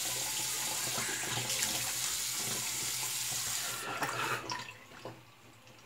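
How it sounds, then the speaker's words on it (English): A bathroom faucet runs steadily as someone rinses off during a wet shave with a Parker Variant razor, a close, even water rush that splashes a little and then tapers off as the flow is cut. "Rinse off again."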